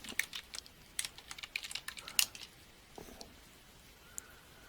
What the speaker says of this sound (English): type light green and press enter.